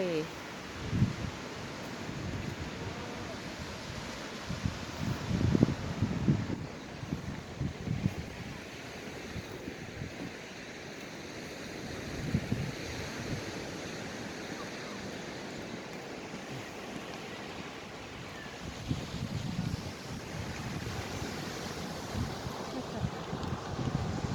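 Sea surf and wind on a beach of rocks and sand, waves washing in softly and steadily under gusty wind buffeting the microphone, with faint occasional voices.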